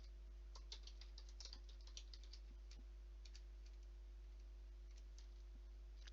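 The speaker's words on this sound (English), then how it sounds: "I'm just typing it," Faint, scattered keystrokes tap on a computer keyboard in short irregular runs, sitting low over a steady background hum.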